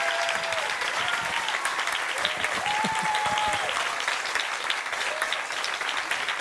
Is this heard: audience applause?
yes